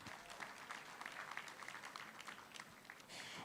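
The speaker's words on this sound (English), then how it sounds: "Can I have a big round of applause as we begin our second day?" An audience at a sustainability forum gives a round of applause to open the second day. The clapping is distant and faint but continuous, with a soft crowd texture.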